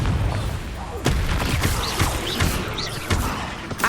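Confringo, an explosive spell in Hogwarts Legacy, gives repeated blasts and thuds over dense game combat noise, several distinct bursts spread across the stretch.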